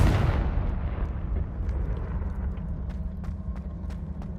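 A Confringo spell explosion in the Hogwarts Legacy video game bursts loudly at the start, then settles into a long rumbling decay with faint crackles, and no one speaks.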